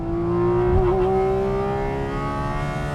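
A Porsche GT4 RS engine sustains a loud, steady high-pitched roar at close range, with a brief rise in pitch before holding a constant drone.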